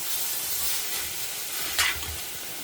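Grated beetroot sautés in a hot pan with a steady, close sizzle and hiss, broken by one quick scrape of a spatula stirring partway through.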